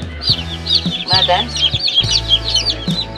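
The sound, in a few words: chicks and chickens clucking, Australorp Rhode Island Red crossbreed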